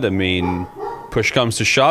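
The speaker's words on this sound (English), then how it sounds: "Excuse my dog in the background." A dog yips and barks in the background, two short higher-pitched barks up front, mixed with and largely under a man's close, clear speech.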